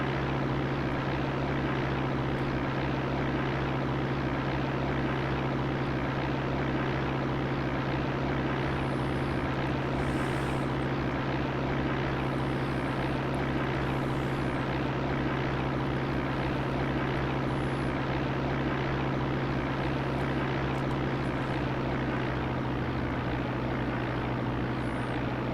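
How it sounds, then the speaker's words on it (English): Aircraft engine in the X-Plane 5 flight simulator drones continuously at steady volume, a smooth propeller-like hum with a low tone that shifts slightly late on. "I know these engine sound effects so well that I can hear in the background of the noise"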